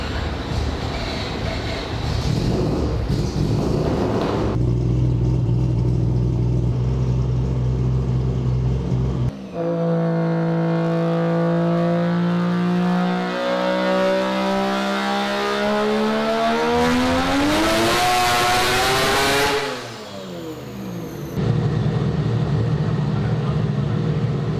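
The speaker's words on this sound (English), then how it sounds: "It was slipping on the dyno, burning out at 952 horsepower." A Mazda RX-7 with a three-rotor engine roars loudly on a dyno, holding a steady drone, then climbing in a long rising rev with whining harmonics before dropping back and droning again, continuous and close.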